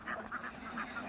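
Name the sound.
ducks in a Kerala village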